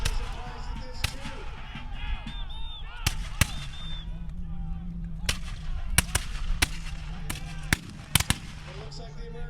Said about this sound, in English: It looks like the Americans are having trouble keeping a steady fire.